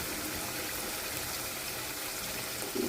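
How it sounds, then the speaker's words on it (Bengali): A small splash of water poured into a pan of mustard hilsa fish curry makes a steady, even rushing hiss that runs unbroken for a few seconds, with a slight swell at the very end. "এখন আমি সামান্য একটু পানি দিয়ে নেব।"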